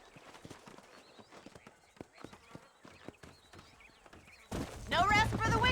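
Horse hooves clip-clop in the Red Dead Redemption video game, a steady run of close, crisp hoof strikes. A voice speaks near the end.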